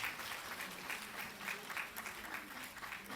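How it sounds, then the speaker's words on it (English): A small group at a teachers' workshop claps in a quiet, uneven patter, the individual claps rising and falling in loose bursts for about three seconds. "Let's clap for each one of them."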